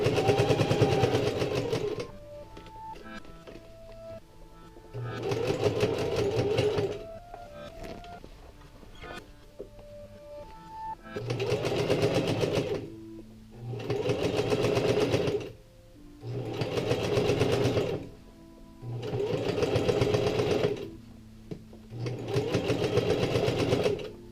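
A sewing machine stitches a jeans hem in repeated loud, fast whirring runs of about two seconds each, separated by short pauses, close and without talk.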